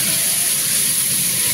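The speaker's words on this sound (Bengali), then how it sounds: "আমি না এই চটটাতে আগে একটুখানি তেলে ভেজে নেব।" Food sizzles steadily in a little oil in a hot wok, a loud continuous hiss heard close up with no break.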